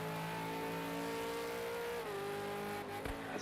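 A V8 Supercar racing engine holds a loud, steady high-revving drone on a flying lap at Bathurst, its pitch dipping briefly as the driver lifts, with a short thump near the end.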